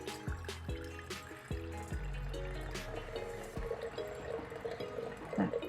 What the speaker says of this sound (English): We want to keep this in the jar and get the liquid to pour.